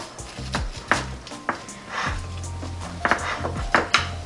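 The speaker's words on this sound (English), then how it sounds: "going to go ahead and just cut a slice" A knife cuts a slice of strawberry pie with a flaky crust baked in a Cuisinart digital air fryer toaster oven, giving several sharp taps and scrapes against the dish, irregularly spaced, close and fairly clear.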